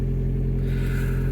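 A Toyota Prius hybrid's engine idles with a steady low hum that fades into a softer, airier tone partway through as it shuts off, close and without talk.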